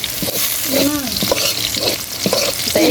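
Fish fries in a pan with onion, chili and garlic, giving a steady loud sizzle broken by repeated scraping and stirring strokes throughout.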